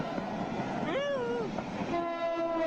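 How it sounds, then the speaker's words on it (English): A train passing, its horn sounding a bending tone and then a sustained steady blast, over a low rolling rumble of wheels on rails at moderate distance. "Here's a train going by, somebody taking some photos,"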